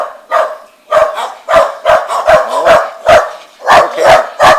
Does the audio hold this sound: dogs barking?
yes